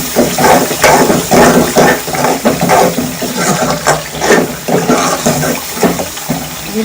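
Water poured into a frying masala of red chillies for aloo matar curry, giving a steady close sizzle and splash with sputtering bursts throughout, no talking.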